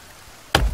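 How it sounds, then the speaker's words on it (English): A single sharp, heavy knock rings out as a cabin wall is connected while building in The Forest video game, sudden and loud after near silence. "Every time we connect the wall to something, it makes that sound."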